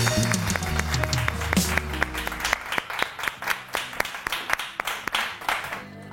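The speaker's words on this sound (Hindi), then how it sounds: "जोरदार ताली होनी चाहिए जी इनके लिए।" A studio audience on a television morning show claps in sharp, fairly even bursts. A faint musical tone fades at the start, then the clapping continues on its own.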